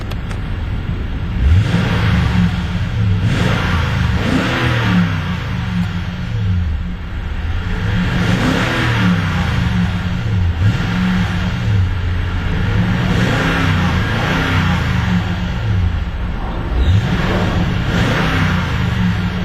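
A 2011 Toyota Tundra Limited pickup with a 5.7-litre V8 idles and revs repeatedly, loud and close, with several rising and falling rev sweeps over a steady low engine rumble.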